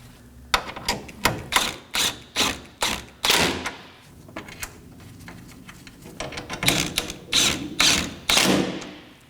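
Ratcheting a pair of 10mm bolts snug on a 2013-2019 Nissan Sentra, one on each side, with a run of sharp repeated clicks and thumps in two bursts, fairly close and loud, no talking.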